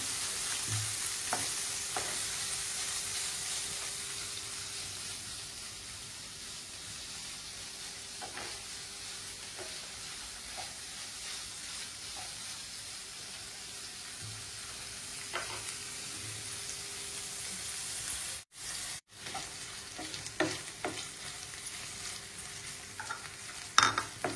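Paneer pieces fry in a pan with a steady, soft sizzle, punctuated by occasional light scrapes and stirring taps, with no voices.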